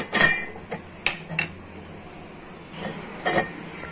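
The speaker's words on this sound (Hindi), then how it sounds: "तो ये बीच बीच में चलाते रहे हैं" A spoon knocks and scrapes against a pot of rice kheer simmering on low gas, giving a few scattered, moderately loud clinks separated by quiet stretches.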